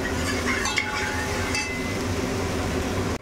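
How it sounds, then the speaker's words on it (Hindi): A ladle stirs bottle gourd curry with tomatoes in a pan, giving a steady, close scraping and sizzling with a few light metallic clinks early on and no talking. "अब इसको थोड़ा करछी से घुमा लेते हैं।"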